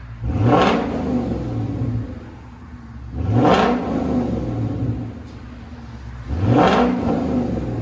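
Ford Mustang GT with the 5.0L Coyote V8 and a loud aftermarket exhaust, revved three times in even bursts, each a sharp rising roar that falls back to a rumbling idle, close and alone.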